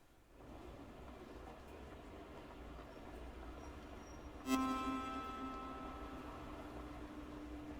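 A three-car train runs in Train Sim World 2 on the Cathcart Circle, giving a steady low rumble that briefly swells midway with a sharp clang and ringing tone before settling into a faint, even drone.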